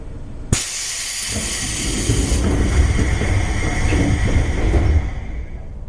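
A Seibu 101 series train, car Moha 223 with a low-pitched motor, pulls out of a station on the Koremasa to Musashi-sakai run. A sharp burst of air hiss starts it, then a steady loud hiss and a low rolling rumble build.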